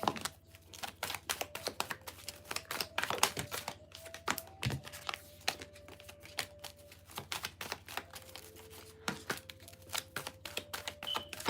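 Tarot cards being shuffled by hand, a dense run of quick papery clicks and riffles with brief crinkling bursts, close and steady throughout with no talking.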